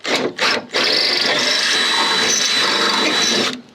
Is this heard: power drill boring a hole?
yes